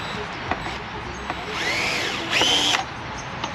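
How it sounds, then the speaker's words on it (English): A power drill whines in two short bursts, rising and settling as it bores a hole into a truck door panel, with faint clicks between runs. "So we'll just drill a hole right there."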